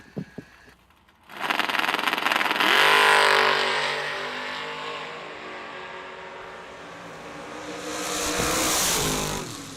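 A Chevy pickup and a 1968 Camaro race down a drag strip. Loud engines roar up after a quiet start, then ease into a sustained drone and swell again near the end.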